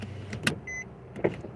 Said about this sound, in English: I gotta roll the window down